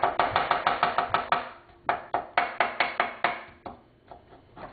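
Garlic being chopped with a knife on a cutting board while preparing chili chicken: a quick run of crisp, evenly spaced close-up thuds, then a short pause and a few slower chops trailing off.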